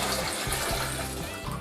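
Mead wort is poured back into a vessel, a brief, continuous splashing rush of liquid heard up close.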